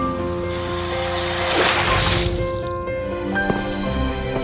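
Water pours steadily from a running bathroom tap during tooth brushing, a continuous close splashing wash with faint clinks underneath and no talk.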